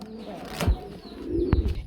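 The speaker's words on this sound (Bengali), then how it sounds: "এখানে আমরা দুইটা সিঙ্গেল কবুতর দেখতে পাচ্ছি" Pigeons coo briefly at a pigeon market, with low murmuring calls and a few sharp handling or flapping sounds over a busy background.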